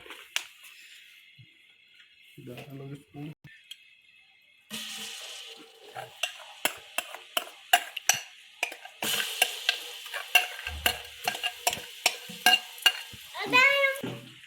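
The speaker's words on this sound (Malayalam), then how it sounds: "ആദ്യം വെളുത്തുള്ളി പേസ്റ്റ് കൊടുക്കാം." Garlic paste hitting hot oil for a beef dish in a busy kitchen, a sudden sizzle followed by repeated sharp scraping strokes of a spatula against the pan, close and clear, with brief talk early on.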